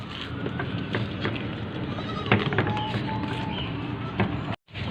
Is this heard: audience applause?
no